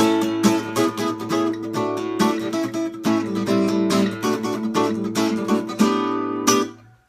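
Guitar picked at full speed in a steady, quick repeating four-note pattern, notes ringing together, played alone without voices and ending with a final ringing note that fades.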